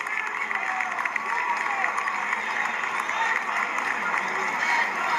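Crowd applause at the 1997 NFL Draft right after the Detroit Lions take a defensive back with the fifth pick: a dense, steady wash of clapping and murmuring voices that holds evenly for about five seconds.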